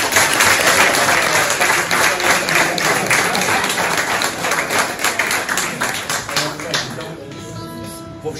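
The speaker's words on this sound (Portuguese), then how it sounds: "Uma grande salva de palmas." Audience at a fado performance gives a burst of close, crisp applause, many hands clapping steadily before thinning out near the end.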